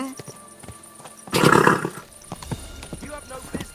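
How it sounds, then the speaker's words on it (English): A loud burst of horse whinnying with scuffling hooves in the middle, surrounded by quieter game sounds and brief voices, from the video game Kingdom Come: Deliverance II. "Easy, good horse."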